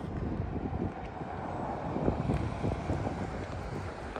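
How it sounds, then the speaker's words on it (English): Gusty outdoor wind buffets the microphone in Seward, Alaska, a steady low roar with fluctuating rumbling gusts throughout and no voices. "Let me see if I can get this wind behind me."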